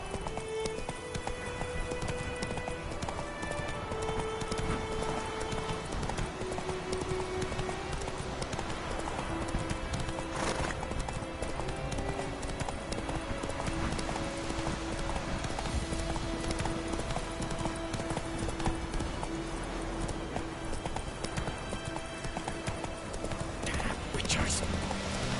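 A horse's hooves clip-clop steadily in The Witcher video game, a continuous rhythmic trot under background music with occasional soft speech.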